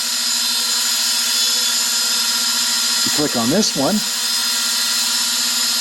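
An RC Pro micro drone in flight, a steady high-pitched whirring hum from its small rotors running throughout while someone speaks briefly over it.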